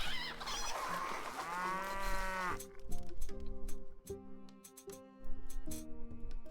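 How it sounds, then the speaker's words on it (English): Several loud, drawn-out cow moos from video game cow farms overlap one another, with a honking, goose-like call mixed in among the lowing. "they're definitely going to know with all the cow farms. All the loud mooing"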